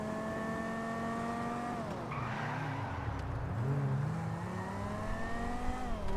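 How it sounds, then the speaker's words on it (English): A game car speeds and drifts, its engine whining steadily in pitch, then dipping and climbing again as tires squeal and skid through the slide, loud and continuous with no talk. "As you can see, I'm speeding and drifting"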